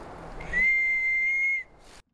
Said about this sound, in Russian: Свистулька.